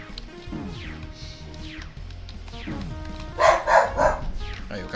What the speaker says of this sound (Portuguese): o cachorro lá aqui do lado ainda